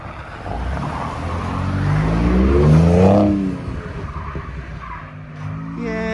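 A Ford Raptor with the twin-turbo 3.5-liter EcoBoost V6, heard from outside, revs up with a rising engine note that peaks and then settles back to a lower idle-like drone, loud and close.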